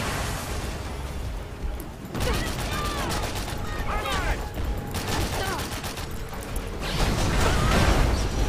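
Rapid gunfire in the video game Avatar, with repeated bursts of shots and mechanical clatter running through the whole stretch, loud and dense, while a voice talks underneath.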